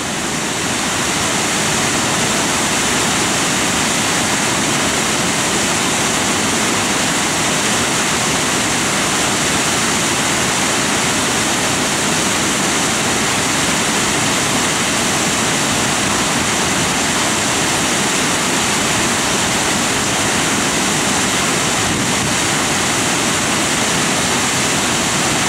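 A waterfall where salmon leap upstream roars loudly and continuously, a dense, unbroken rush of falling water with no other sounds rising above it.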